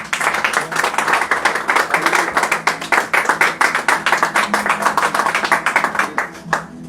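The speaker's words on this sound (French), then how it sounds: "Laissez-nous applaudir le Seigneur pour la présence de Corinne ce matin" A church congregation claps together in steady, fast rhythm, loud and close, the applause filling the room for several seconds before thinning out near the end.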